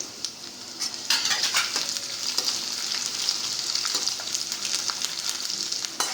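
Dried red chillies and crushed garlic sizzling in hot oil, a steady close crackle with bright popping and occasional stirring clinks throughout.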